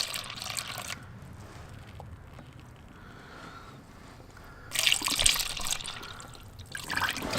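Coolant poured into a BMW E46 330xi engine with the engine off, a steady liquid trickle and gurgle that swells into louder splashing bursts toward the end.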